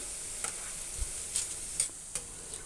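Boondi for Tirupati laddu fries in hot oil with a steady bright sizzle. A few light ticks and taps of a ladle sound now and then, and nobody speaks.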